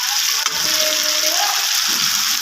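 Water is poured into spice masala frying in a pan, giving a loud, rushing sizzle and hiss that fills the whole moment.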